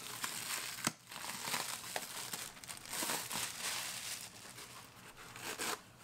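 Soft crinkling and rustling of paper towels being handled close by, with a few sharper crackles scattered through.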